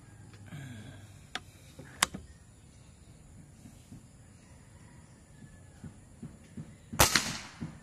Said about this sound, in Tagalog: dalawang putok na yan